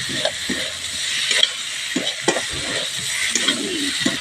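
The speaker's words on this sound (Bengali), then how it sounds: "এটাকে ভালো করে মিক্স করবো।" A spice mixture stirred and fried in a pan, with a constant sizzle under repeated scraping strokes of a spoon, close and moderately loud.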